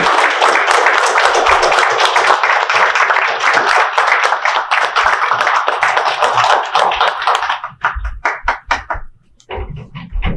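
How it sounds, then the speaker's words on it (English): Loud, dense applause from an audience at a city council meeting, steady clapping for about seven and a half seconds before it thins into scattered claps and a few voices. "Let's give CASA a round of applause."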